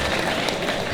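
Audience applause at an InsaLan competition, a continuous loud crowd clapping filling the room throughout, with some voices mixed in.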